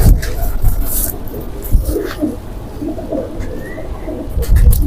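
A golden teddy-type pigeon coos close to the microphone, giving several soft, throaty rolling coos in uneven bursts over faint background noise, with no talking.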